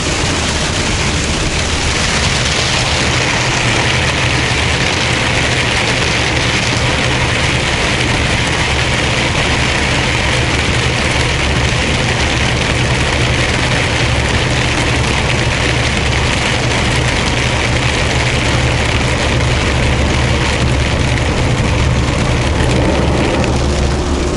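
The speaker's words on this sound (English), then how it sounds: "The rain is so loud, I'm having a hard time hearing myself think." Heavy rain hammers a car roof and windshield, heard from inside at the dashboard during a thunderstorm, a loud, unbroken roar with a low engine rumble underneath.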